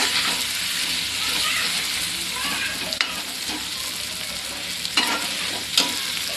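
Cut potato pieces fry and are stirred in a pan, giving a steady broadband sizzle with a few louder scraping clinks near the end; no talk.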